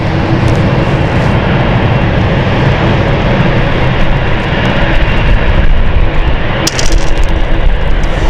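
A Dublin-bound airliner at London City Airport roars steadily on a stormy weeknight, its broad engine noise loud and close and holding for several seconds.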